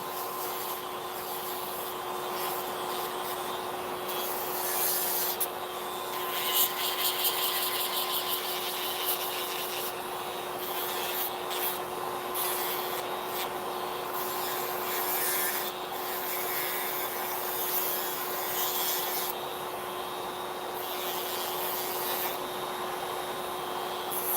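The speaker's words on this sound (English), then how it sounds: "Almost done filing it." Acrylic nails being filed down during nail removal, a steady close rasping and rubbing with a constant low motor-like hum underneath, continuing without pause.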